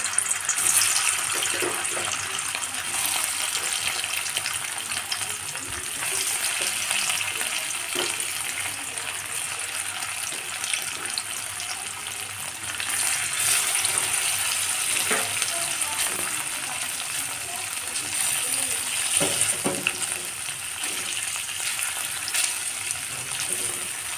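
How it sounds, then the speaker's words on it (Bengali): Paneer pieces fry lightly in hot oil with a steady crackling sizzle, joined by occasional stirring clinks and a trickle of running water in the background. "পনিরগুলো আমার হালকা করে ভাজা হয়ে গেছে"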